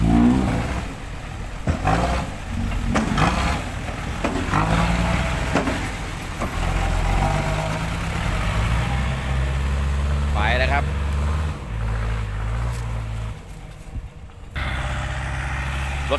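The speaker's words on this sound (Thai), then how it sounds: "รถไถนี่ทำงาน2หน้าที่ทั้งดันดินแล้วก็ลากรถครับ" A tractor engine rumbles and labours while pushing soil and towing a car, a loud low drone with revving surges, heard under ongoing talk.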